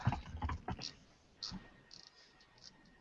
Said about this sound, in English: Like I'm typing.